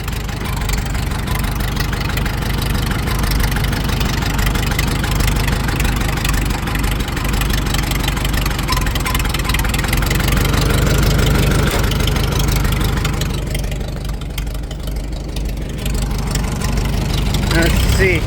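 A Farmall 350 tractor, sitting unused for five years, runs with a steady low engine rumble and idle knock through the whole stretch, with people talking nearby over the noise.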